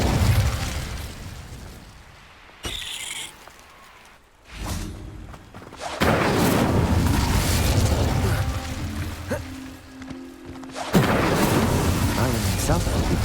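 Incendio fire spell cast in Hogwarts Legacy, with bursts of whooshing flame and booming impacts that come and go in uneven waves, loud and close, and voices speaking in between.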